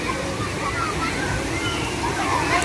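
Water pouring down like heavy rain onto children playing and lying in it, a dense continuous rushing splash close by, with voices faintly mixed in underneath.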